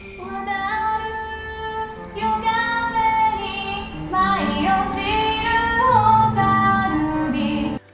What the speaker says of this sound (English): the music has to include a little bit of that traditional music